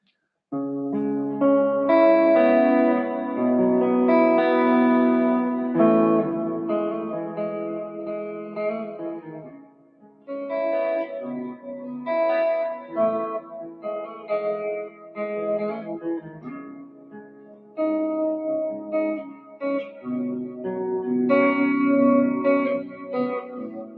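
Electric guitar through a reverb pedal, sustained chords and notes swelling into a big washy cloud of echo and shimmer, loud and continuous, pausing briefly midway before ringing on.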